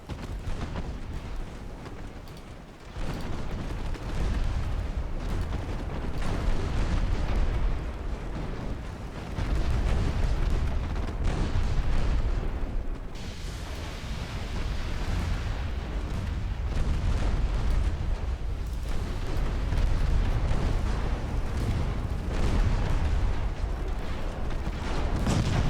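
Heavy booms and rumbling explosions roll continuously in a naval warfare video game as torpedoes fire and an enemy ship is sunk, a dense, loud barrage with no talking over it.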